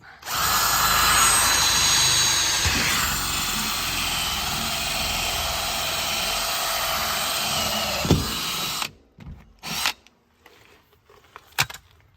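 A power drill bores steadily and loudly through material for a 1.25 inch spring water inlet at a campground install, running continuously for about eight seconds before stopping, followed by a few scattered clunks and handling knocks.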